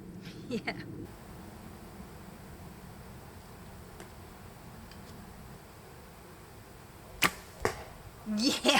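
An arrow shot from 18 meters strikes a plastic target, sharp brief impacts standing out against quiet outdoor background hiss, with a short burst of nearby voice at the end.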